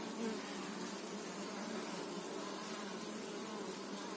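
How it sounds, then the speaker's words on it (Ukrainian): A dense, steady buzz of many honeybees fills the air continuously, loud and close, with no other sounds standing out. "Тільки деяка бджола летить на соняшник"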